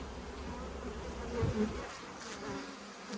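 Honey bees from a freshly opened hive buzz steadily at close range, a dense swarm drone with individual bees passing the microphone, and no voices.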